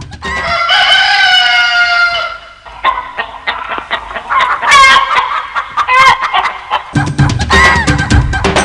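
Chickens kept for a snake-bite remedy in Khammam District cluck and a rooster crows loudly up close, the crow's long call followed by bursts of agitated clucking and squawks, with no talk.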